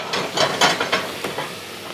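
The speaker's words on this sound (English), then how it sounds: "And give the pan a good shake around." A pan of melting mixture with lemon juice is shaken on a BBQ, giving loud sizzling and a scraping, swishing sound in several rhythmic sweeps, close by with no talking.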